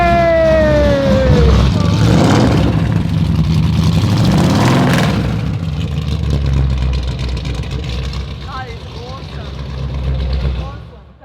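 Ford GT with a 6.6 litre V8 cranking and firing up, a rising whine giving way to a loud rough engine roar that settles into a deep idle, with people talking over it.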